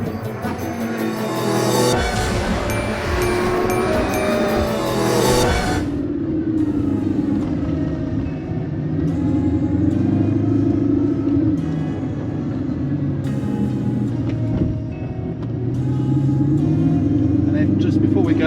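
A 2022 Bugatti Chiron Super Sport drives through Miami traffic with a steady low engine rumble throughout, louder and rougher at first and then settling into a smoother cruising drone, heard from inside the car.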